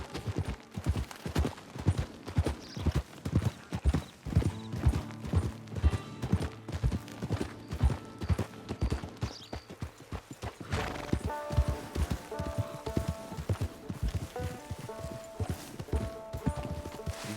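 Horse hooves walking in the Red Dead Online video game, a steady rhythmic clip-clop of footfalls up close with an occasional whinny, over soft background music.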